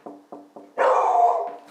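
A dog close by gives three quick, evenly spaced short barks, then a longer, louder drawn-out bark that trails into a whine.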